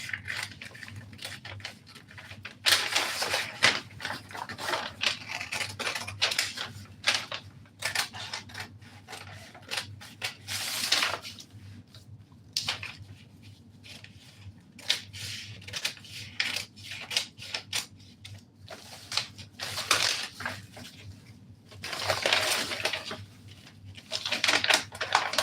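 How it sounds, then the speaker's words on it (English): Scissors cutting out a paper pattern for a fitted flare dress, giving repeated close rasping snips and rubbing strokes in irregular bursts over about 25 seconds, with a steady low hum underneath. "I'm going to come and cut this out."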